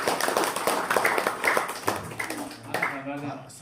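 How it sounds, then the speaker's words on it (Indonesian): An audience at an Indonesian business presentation breaks into scattered, moderate applause, clapping mixed with people talking over it. "Tepuk tangan dong."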